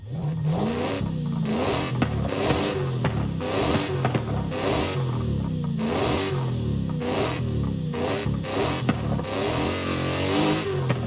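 Engine of a convertible car in Forza Horizon 5, heard from the cabin, revving loud and steady through repeated rising throttle blips with gear-like pitch sweeps, continuous with no talk.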